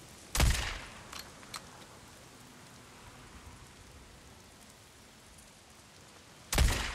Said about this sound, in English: Somebody shoots back.